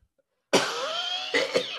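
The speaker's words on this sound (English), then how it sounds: "I'm going to cough." A single harsh, drawn-out cough close up, rasping for over a second and then ending in two short hacking bursts.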